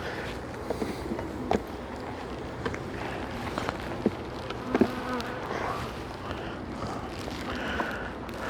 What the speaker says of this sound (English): full of bees. And it looks like they have turned this top hive into a honey super.